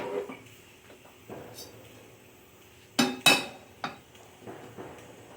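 A cooking pan set down on a stovetop while preparing masala for rajma, with a few sharp metallic clanks and clinks, two loud knocks in quick succession, amid quieter kitchen handling noises.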